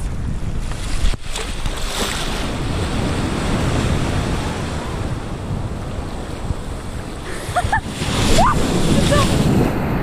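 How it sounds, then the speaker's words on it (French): Large waves crash and roll continuously on a Costa Rican beach under heavy wind buffeting on the microphone, a loud wash of surf with brief voices near the end. "les vagues elles sont énormes"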